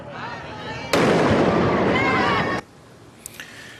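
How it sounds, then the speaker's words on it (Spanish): A firecracker set on a burning effigy of a political figure goes off at a crowd burning, giving a sharp crack followed by nearly two seconds of loud crackling and hissing before it cuts off, with faint pops afterward. "Le habían puesto como un petardo ahí a uno de ellos"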